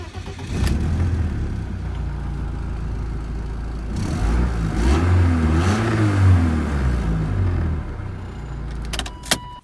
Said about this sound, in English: it's developed a new noise. I think I might have blown like an exhaust gasket or something like that